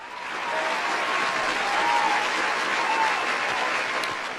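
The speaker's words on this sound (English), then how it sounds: "A round of applause for our regulars." Live studio audience applauding the regulars of a radio-style comedy show, a full, steady wash of clapping that swells and then eases off, with no voices over it.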